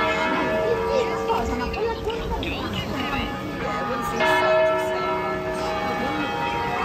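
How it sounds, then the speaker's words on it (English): Church bells pealing in Santa Margherita, Italy, a continuous overlapping clang heard outdoors amid people talking and street noise. "Have arrived, the bells are ringing."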